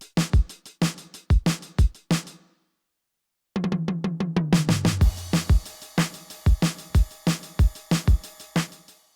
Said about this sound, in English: So the whole drum thing going to the chorus sounds like this